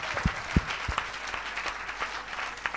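Congregation applauding at a French-language evangelical healing service, a steady wash of clapping with a few sharper individual claps near the start, moderately loud and without talk.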